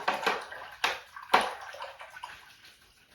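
A paintbrush being rinsed in a water cup while acrylic painting, a few quick close splashes and swishes followed by fading trickles.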